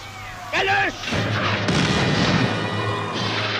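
Artillery and gunfire from the German invasion of Poland, heavy booms and crashes building into a continuous roaring barrage after a brief tonal sound at the start, loud and sustained throughout.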